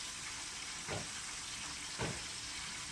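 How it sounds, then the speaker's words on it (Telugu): Washed chicken lightly dry-frying in oil with a little salt, a soft continuous sizzle with two brief louder bursts of crackle, quiet and close. "ముందుగా కడిగి పెట్టుకున్న చికెన్ని ముందుగా నూనెలో వేసి కొంచెం లైట్గా డ్రీ ఫ్రై చేసుకున్నాం"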